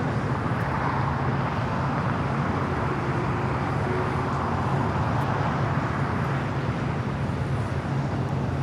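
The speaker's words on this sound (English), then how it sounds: "Queen is now rolling Korean Air Cargo 8208." A Korean Air Cargo plane rolls at LAX, a loud continuous roar of jet engines with broad rumbling noise that holds steady throughout.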